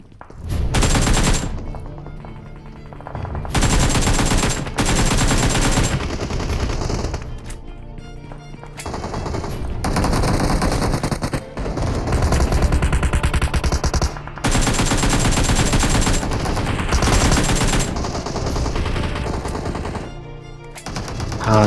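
Gunfire from a fight in PUBG on the Sanhok map: loud bursts of automatic weapon fire come in repeated volleys separated by short pauses, dense and close throughout.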